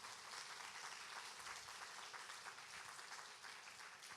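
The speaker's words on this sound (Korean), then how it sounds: "여러분의 허목사님이 그런 분이면 박수로 맞이하시기 바랍니다" A church congregation at a Toronto revival meeting claps together, a dense continuous wash of applause, fairly distant and steady throughout.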